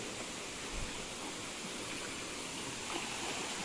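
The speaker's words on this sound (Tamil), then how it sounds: "செம பெருசாக ஒரு ரிவர் ஓடுது." A monsoon-swollen river rushing beside the Dudhsagar waterfalls trek makes a steady, dense roar of flowing water. The wash is unbroken and even throughout, with no voices.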